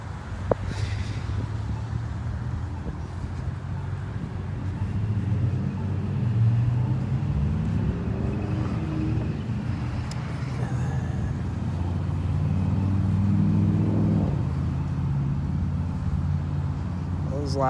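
Cars pass on a nearby road in a steady stream of engine rumble and tire roar, several swelling and fading over the span, with no talk.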